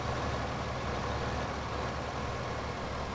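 A truck engine in Farming Simulator 2015, hauling logs for a forestry job, drones steadily and loudly at a constant pitch with no voices over it.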